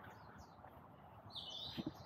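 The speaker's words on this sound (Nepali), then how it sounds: "अहिले त चराको साउन्ड चिर्रा चुर्र गरेको आनन्द आयो" A small bird chirps in Duckling Hill Rest Garden, Tseung Kwan O, Hong Kong, near a bamboo thicket. The call is faint and distant, with a short high trill and two soft notes over quiet outdoor ambience.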